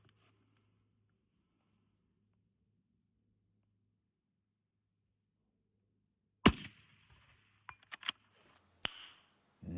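Several sharp rifle shots from a Ruger American Gen 2 Ranch in 5.56 ring out after a long quiet stretch, first one loud report followed by a few spaced cracks with short echoing tails.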